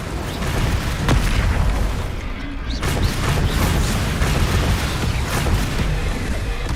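Deep booming blasts from explosive spells in Hogwarts Legacy, heavy thuds and bursts following one another against a dense rumbling backdrop, with a voice faintly present underneath.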